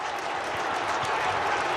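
A stadium crowd roars after a goal at a Meath v Dublin 2023 National Football League round 6 Gaelic football match, a steady, loud wall of cheering and applause with no break.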